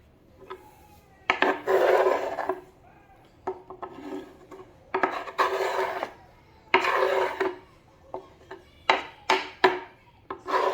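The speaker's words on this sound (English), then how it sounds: "scrape these into my pot here" Chopped carne asada ingredients scraped off a wooden cutting board into a pot, with repeated close rasping scrapes in short bursts and light knocks between them, no voices.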